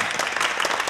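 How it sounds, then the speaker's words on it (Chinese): Brief, close burst of applause from a small group of staff in a prosecutors' office, dense steady clapping lasting under a second. "大家鼓掌"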